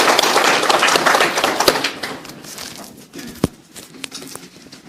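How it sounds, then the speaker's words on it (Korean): Applause from a church congregation, dense clapping that is loud at first and then thins into scattered claps and taps as it dies away. "우리 하나님께 영광의 박수 올리도록 하겠습니다"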